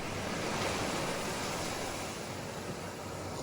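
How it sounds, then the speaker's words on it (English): Ocean waves at a Maui beach crash and wash continuously, a loud, steady broadband roar of surf with some wind, and no voices. "So please enjoy the waves."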